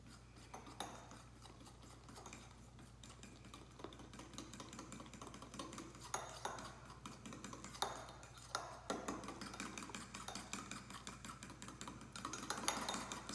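Banana cinnamon whole wheat waffle batter mixed in a bowl, giving faint, steady scraping and clinking of a utensil against the bowl, repeating softly and close throughout.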